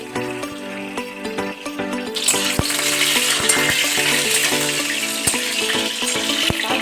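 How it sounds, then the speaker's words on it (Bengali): Whole chillies drop into hot white oil and fry with a loud, steady sizzle that swells sharply after a couple of seconds, with faint stirring clatter, alone without talk. "এবার আমি ওই তেলের মধ্যে এই লঙ্কাগুলোকে দিয়ে দেব।"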